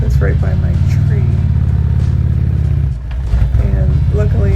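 Harley-Davidson Road King Special motorcycle engine revving hard and steadily in a garage setting, a loud continuous rumble with a brief dip near the end, with a voice talking over it.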